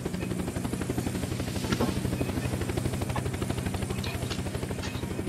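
Steady, rapid thudding of helicopter rotor blades in the video game Unturned, loud and close, continuing throughout with faint mechanical noise layered over it.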